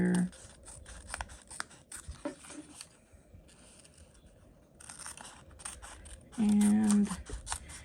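Scissors cutting around a Dollar Tree playing card for an ATC art card, a string of close, crisp snips and scratchy paper cuts with a brief louder burst near the end.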